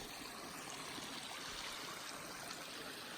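Clear water of Fire Creek flows steadily along the trail, a constant, even rushing hiss heard at low level with no voices.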